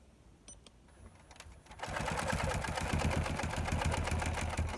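A quilting machine on a Cutie frame runs in regulated cruise mode at 11 stitches per inch, faint clicks at first, then a steady, rapid mechanical stitching rattle starting about two seconds in and continuing to the end.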